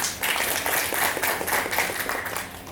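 Audience at a book launch and discussion event applauding together, a dense, steady burst of many hands clapping close by for a few seconds before it starts to fade.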